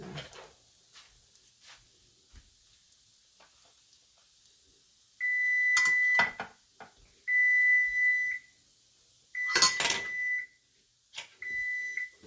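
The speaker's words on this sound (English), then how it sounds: "our timer just went off" A kitchen timer sounds four sustained beeps while Fruity Pebble French toast cooks, each long electronic tone loud and close, with kitchen clatter and utensil knocks around them.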